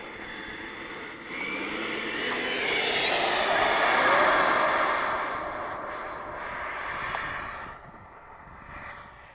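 A Freewing 90mm F22 RC jet on 8s power takes off. Its ducted-fan whine builds into a loud rushing roar, peaks, then fades slightly as it climbs away.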